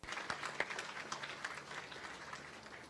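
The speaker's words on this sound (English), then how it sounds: "please join me in a round of applause for the Naval Construction Battalion 11 Color Guard and the Navy Band Southeast" Audience at a US Navy ship christening, USNS Navajo, gives a faint, distant round of steady applause, scattered claps blending into a soft continuous patter with no voices.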